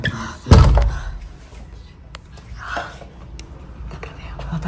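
A door is shut with a single loud thump near the start, followed by faint clicks of a lock and hushed, whispered voices in a quiet room.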